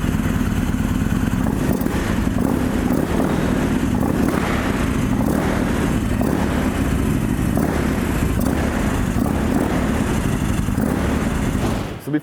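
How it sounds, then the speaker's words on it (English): A Yamaha MT-01 with its 1700cc V-twin runs steadily and loud, a deep continuous throbbing rumble held close up for about twelve seconds with no talking over it. "You gotta hear this motor though."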